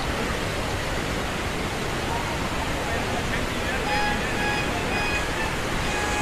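Hogenakkal Falls roars as a steady, dense wash of falling water that fills the whole scene, with faint distant voices and a few thin tones drifting over it.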